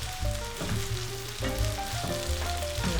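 Butter shrimp and angel hair pasta sizzle steadily in a hot pan while being stirred, a dense continuous fry with soft scraping, and bright tonal music runs underneath throughout.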